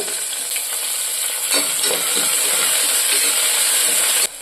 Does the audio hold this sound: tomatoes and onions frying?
yes